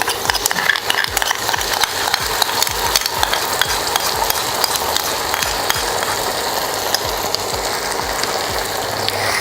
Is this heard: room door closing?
no